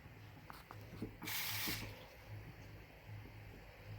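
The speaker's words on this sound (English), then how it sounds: "If it looks a little bit dry, you can always add a little bit of water." Water poured or splashed from a tap into a bowl of cumin naan dough, a brief bright rushing burst midway, close and fairly loud, over quiet kitchen background.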